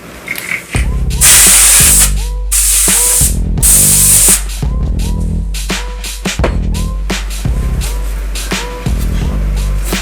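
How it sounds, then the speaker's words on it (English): Short bursts of canned compressed air blast inside an opened 2005-2012 13-17 inch MacBook Pro during a hard drive to SSD swap, loud hissing sprays repeated in a steady series with brief gaps. "Where's my compressed air?"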